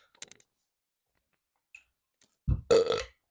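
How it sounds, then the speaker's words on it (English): A single loud, guttural burp from a man after drinking La Croix sparkling water, coming near the end after a few faint ticks and a quiet stretch. "Burp number one."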